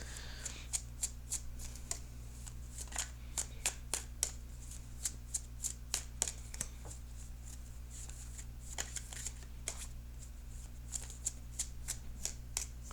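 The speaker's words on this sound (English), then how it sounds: "I'm going to shuffle for just a couple of more minutes." Tarot cards are shuffled steadily and close up, a long run of quick crisp riffling snaps over a low constant hum.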